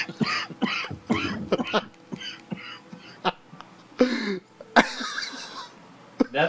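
Several bursts of coughing and throat clearing from a man streaming PlayStation 2 games, some harsh and close, broken up by short pauses and mixed with brief vocal noises.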